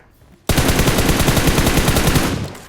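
After a moment of quiet, a single sustained burst of fast automatic gunfire from PUBG Mobile starts abruptly and rattles on for about two seconds. It is loud and close, with evenly spaced shots and no talking.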